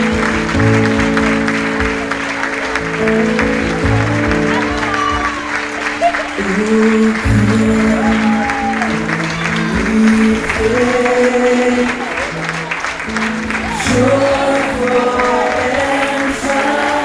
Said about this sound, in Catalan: Rebem amb un fort aplaudiment l'alumnat de primer d'ESO.